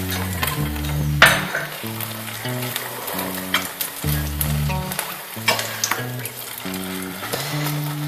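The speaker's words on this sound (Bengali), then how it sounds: "এভাবে সমস্ত পাটিসাপটা পিঠাগুলো আমি ভেজে নিলাম।" Patishapta crepes fry in ghee in a pan, a steady sizzle running under background music with stepped melodic notes throughout.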